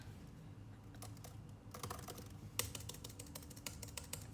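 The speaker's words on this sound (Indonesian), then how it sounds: "Tuh suara keyboard tuh enak banget guys" Rapid clattering keystrokes on a mechanical keyboard, close and crisp, with bursts of typing against a low background hum and no voices.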